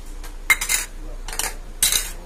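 Dry ingredients for a chocolate cake (flour, sugar, cocoa, baking powder and baking soda) are sifted with a metal sieve. Three short bursts of rattling, tapping clatter come close by, with brief quiet gaps between them.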